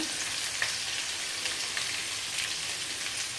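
Spices fry in hot ghee for jeera rice, a steady close sizzle with faint crackles and pops throughout, no voices.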